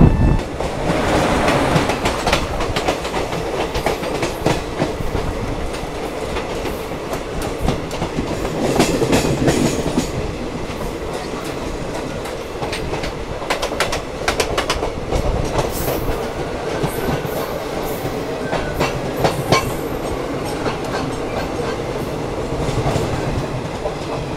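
The Sealdah–Agartala Kanchanjungha Express, train 13173, rolls along loudly and steadily, its wheels beating a continuous clickety-clack rhythm on the rails with rushing wagon noise throughout.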